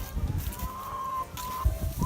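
Chickens in a large chicken tractor fenced with electric netting make faint, soft clucks and cheeps at a lodge farm, with some outdoor rustle and handling noise nearby.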